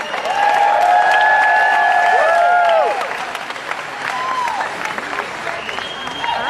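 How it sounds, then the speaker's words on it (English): An audience claps and cheers at a seminar event, loud at first with bright whistles or whoops over the clapping, then settling into lighter, continuing applause. "Give Cody a round of applause, everybody."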